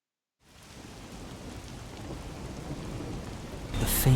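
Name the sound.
rain sound in the video game Rain Code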